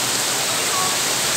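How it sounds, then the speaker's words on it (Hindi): Steady rain falls in Lahore as a continuous, even hiss of drops with no pauses, moderately loud and close for a brief moment, with no voices. "आज लाहौर का मौसम है, कितनी देर बारिश हो रही है।"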